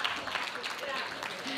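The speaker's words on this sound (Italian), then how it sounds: "Grazie Fabiana, un meritato applauso anche a te" An audience at the Vinitaly 2013 wine fair, during a Donne del Vino event, gives a chef a burst of steady clapping, with a voice speaking over it.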